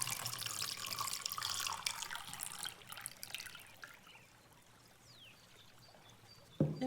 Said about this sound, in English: Then you get a glass of water or a bit of water and you pour it.